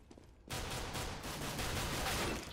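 Rapid pistol gunfire in a CS:GO one-on-one match, a dense run of loud, close shots that starts abruptly after a quiet moment and stays sustained to the end.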